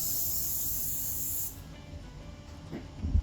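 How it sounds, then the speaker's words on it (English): A steady, close hiss of aerosol spray runs for about a second and a half, then stops, followed by faint clicks and a soft thump. "take some cooking spray."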